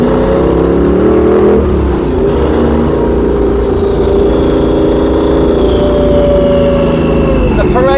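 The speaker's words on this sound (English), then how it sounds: "we've started a rev battle that we will eventually win" Drift cars, one with around 1,000 brake horsepower, revving against each other in a rev battle at the Castle Combe circuit, engines sustained loud and close with shifting pitch that swells and dips for several seconds.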